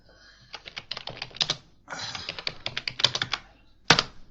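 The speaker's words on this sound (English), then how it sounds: "Just typing away." Rapid typing on a computer keyboard, bursts of quick clicky keystrokes with a short pause midway, then one last sharp tap.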